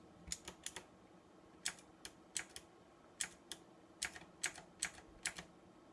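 Keyboard keys are pressed close up in irregular bursts of sharp clicks, some singly and some in quick pairs, with quiet pauses between.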